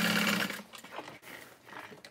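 Sewing machine running in a short burst while stitching the bottom seam of a canvas tote bag, loud at first then fading into softer handling noises, with no talking.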